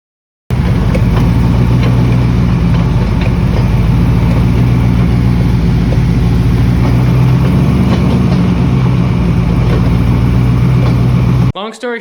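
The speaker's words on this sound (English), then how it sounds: "put it in four-wheel drive, and then put it in first gear and revving it up." A lifted truck in four-wheel drive and first gear revs hard, its loud, steady engine roar running continuously for about eleven seconds before cutting off, with a wobbling axle shaft on the truck.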